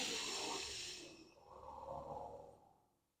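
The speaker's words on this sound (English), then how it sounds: "we're going to breathe in through the nose" A person breathes in through the nose during a core exercise: a soft, airy inhale lasting a few seconds, close and fairly quiet, with no talking.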